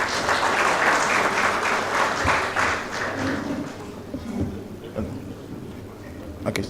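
A crowd applauds at a national stakeholders dialogue on food security in Nigeria as a speaker is welcomed to the stage. The clapping is loud and dense at first, then thins and fades over several seconds.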